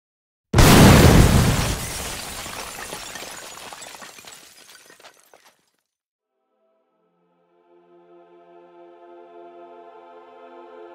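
A bomb detonates with a loud, close boom and shattering burst, then a long rumbling decay with debris settling over several seconds, followed by a quiet stretch before soft sustained music rises.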